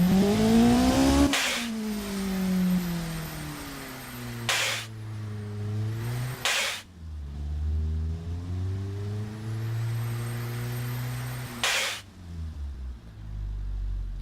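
A simulated MDF Flywood car engine in the Automation game revs repeatedly, its pitch climbing and sagging through several long pulls. Sharp breaks between the revs sound like shifts or cuts, and the engine plays loud and alone throughout.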